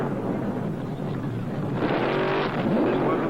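A drag-racing Plymouth Cuda, a 220-mph car, launches off the start line with a dense, loud engine roar that swells toward the end, steady and close, no talking.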